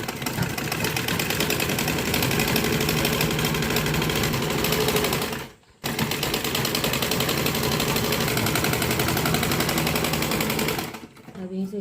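A sewing machine runs a double line of stitches on a dhoti salwar, its loud, rapid mechanical chatter continuing nearly unbroken, with a brief pause midway and another near the end, heard close.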